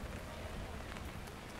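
Heavy rain drums steadily on an umbrella during a rainy-day walk, a dense, continuous patter close overhead with no letup.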